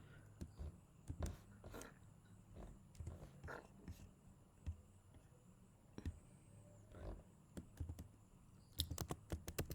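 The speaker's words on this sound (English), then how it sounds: "Then you can type your comma separated values." Typing on a Mac computer keyboard, an irregular run of soft key clicks with brief pauses, faint and close, over a low background hum, ending in a quicker burst of taps.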